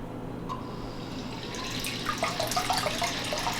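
A Joule sous vide circulator preheating water for eggs, a steady close watery churn and trickle with soft bubbling and splashing that grows livelier after the first couple of seconds, no talk.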